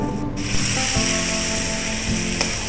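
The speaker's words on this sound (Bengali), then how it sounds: "এইবারে সম্পূর্ণ খিচুড়িটা ঢেলে দিলাম" Vegetable khichuri is poured all at once into a cooking pot on the stove. A loud, steady hiss and sizzle continues throughout, with a few faint knocks mixed in.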